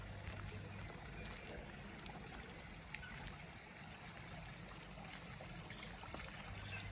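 A small solar-powered garden stream trickles into a backyard pond, a faint, continuous babbling of water with soft irregular splashes and no voices.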